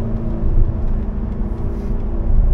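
A Ferrari 599 GTB Fiorano being driven, its engine a steady, loud, low rumble that swells slightly at times and continues without a break, with no talking.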